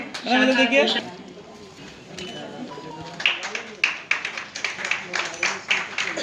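Audience applause welcomes a guest at a Marwari women's conference national executive meeting in Kolkata, with scattered, uneven claps rising over a fading voice and then continuing for several seconds.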